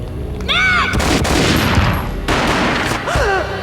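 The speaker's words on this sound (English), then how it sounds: "A gunshot boomed and she fell down in slow motion." Gunfire in the Max Payne video game on PS2: loud bursts of shots and booming impacts fill most of the clip, with brief whistling tonal effects at the start and end.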